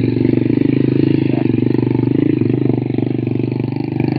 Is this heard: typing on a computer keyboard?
no